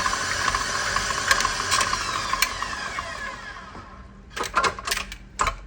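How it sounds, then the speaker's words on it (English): A stand mixer runs on a low setting, beating pats of butter with sugar: a steady whirring hum with a faint rhythmic rattle. Near the end the motor fades and a few louder clatters and knocks follow, close by, with no talk. "I'm going to start off on a low mixing setting"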